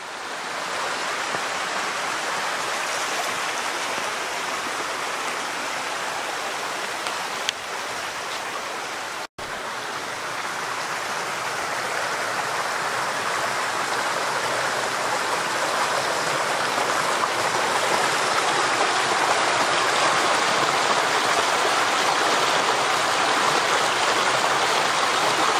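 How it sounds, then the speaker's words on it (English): A small waterfall and stream in a hemlock forest give a steady, full rushing wash of water that stays constant and close for the whole stretch, with no voices. "That's just down from that little waterfall there."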